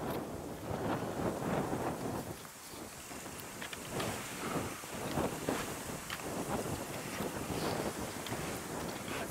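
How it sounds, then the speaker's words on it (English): Steady, gusty wind roars across the microphone throughout, a broad rushing noise with surging bursts, like open water in strong breeze. "It's windy as it is."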